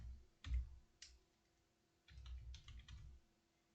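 Typing on a computer keyboard arrives in two short bursts of close key clicks with a quiet pause between them, and no one speaks.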